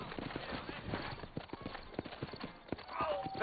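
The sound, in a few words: horse hooves clip-clopping in video game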